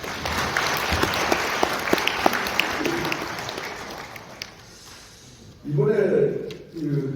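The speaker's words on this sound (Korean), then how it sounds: "구미시의 공무원분들의 노고에 박수를 한번 보내주십시오" Audience at a CEO management seminar in a hotel applauds city officials, dense clapping that fades gradually over several seconds before a voice resumes speaking near the end.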